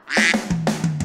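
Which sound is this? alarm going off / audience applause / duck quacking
duck quacking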